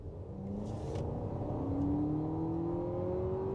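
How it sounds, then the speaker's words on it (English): A 2024 Lexus TX 350 with a turbocharged four-cylinder and eight-speed transmission accelerates from a roll, its engine note rising steadily in pitch as a smooth, continuous drone with no talk over it. "We'll go ahead and give a quick acceleration from a roll."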